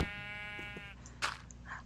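A single sheep bleat from Minecraft rings out at the start, a short buzzy wavering call, followed by a few faint clicks and rustles.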